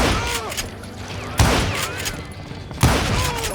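Gunshots in Call of Juarez: Gunslinger, three sharp, loud reports spaced about a second and a half apart, each with a short ringing tail over a busy game backdrop and faint talk.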